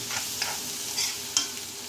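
White chickpeas stirred through hot oil in a pan over low flame, with a soft steady sizzle broken by a few sharp scraping strokes of the spoon; no voices.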